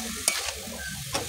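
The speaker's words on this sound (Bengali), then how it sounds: "একটু ভালো করে নেড়ে নিচ্ছি" Spices with turmeric and chili fry in a pan while a utensil stirs them, sharp scrapes and clicks standing out over a low sizzle, close up, brief and without talk.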